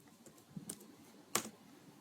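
Two soft keystrokes on a computer keyboard tap in a quiet room, close and faint, with no talk.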